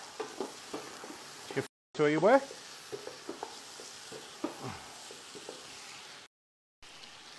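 Tomato purée with spices sizzles and fries in a pot with occasional stirring scrapes, while a voice speaks briefly over it.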